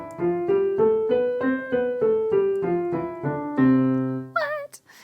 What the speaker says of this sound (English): I'm going to play a nice, smooth legato scale in my right hand.